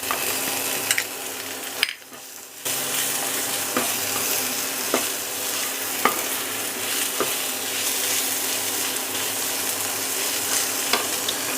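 Potato and chopped green chilli stirred and fried in a pan: a loud, steady sizzle with regular scraping strokes of a spatula and a brief dip partway through.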